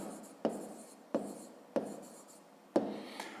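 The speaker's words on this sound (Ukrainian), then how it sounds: "Я напишу просто розв'язали разом." A pen or pencil writes an answer by hand on paper in four short, close strokes, each starting with a soft tap and trailing into a scratchy rub, quiet and alone in a still room.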